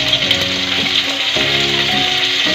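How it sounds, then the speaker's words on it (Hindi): Curry leaves and cumin seeds crackling in hot oil while making poha, a loud, steady close sizzle with faint tonal hum and no voices. "अब हम उसी ऑयल में डालेंगे थोड़ी सी कड़ी मिर्च, थोड़ा सा जीरा,"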